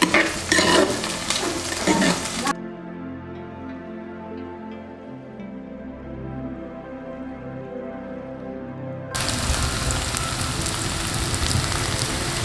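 Chicken curry masala with curry leaves and coriander stems being stirred and fried in a pan, a steady close sizzle with scraping spoon strokes, louder bursts at the start and end.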